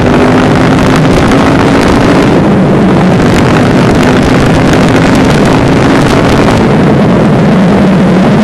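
KTM 690 SMC motorcycle cruising at about 80 with a steady engine drone and heavy wind rush, loud and continuous, no talk.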